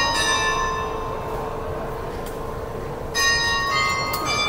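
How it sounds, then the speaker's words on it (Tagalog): The nine o'clock bell at Lau Pa Sat food centre in Singapore rings out with sustained, resonant tones, fading slightly and then striking again loudly, over a busy ambient crowd murmur. "Ayun o, ayun yung bell."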